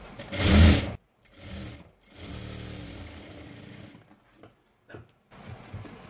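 A sewing machine stitches a lining blouse in short bursts, starting with a loud run and then a steadier hum, separated by brief pauses and ending in a couple of quick spurts.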